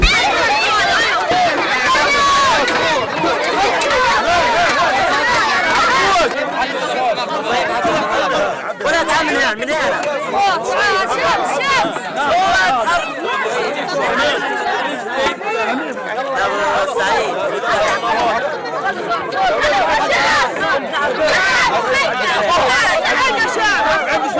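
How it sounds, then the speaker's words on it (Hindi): A crowd of hungry people presses together at a food distribution in Gaza, their loud, continuous chatter and babble filling the whole stretch without a break. "जहां कोई इंसान हिम्मत करके खाना बांट भी रहा है तो खाने से ज्यादा वहां भूखे लोगों की भीड़ है"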